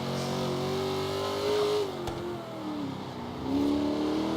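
A Chevrolet Nova's engine revs and strains while drifting through corners in Forza Horizon 3, a loud, sustained mid-pitched drone whose pitch sweeps up and down as the throttle changes.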